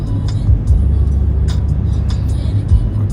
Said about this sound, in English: We keep driving.